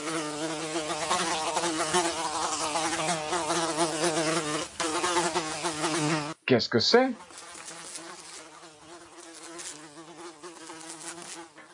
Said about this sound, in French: Je n'aime pas les mouches.